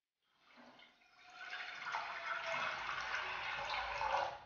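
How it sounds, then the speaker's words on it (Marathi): A glass of water is poured into the bottom pot of a steamer while making dhokla: a soft, steady splashing and gurgling fill that swells and continues for several seconds, faint and without talk. "मी 1 ग्लास पाणी ओतत आहे."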